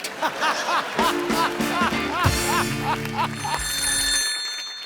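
An outgoing phone call rings on the line, with a series of repeated electronic ringing tones close by, mixed with light laughter and brief voices.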